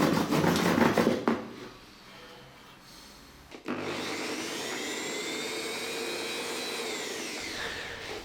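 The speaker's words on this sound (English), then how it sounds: "Then I got to cutting off the tip of the workpiece" A lathe cuts off the tip of a workpiece in a sculpture made of money, giving a loud rough grinding and rubbing followed by a sustained whining cut with a rising and falling tone.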